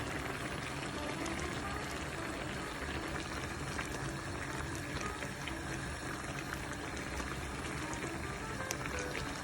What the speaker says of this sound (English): And then just pour the Bisto in.